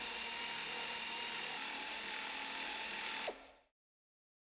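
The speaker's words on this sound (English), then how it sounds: "reverse the air ratchet to return the cutter to the start position for the second pass" An air ratchet whirs loudly and steadily at close range as it drives a precision window cutter in reverse. A brief pitch shift comes near the end, then the sound cuts off abruptly into silence.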